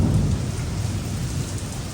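Thunder rumbles low and steady through a heavy rainstorm, with dense rain hissing throughout and no voices.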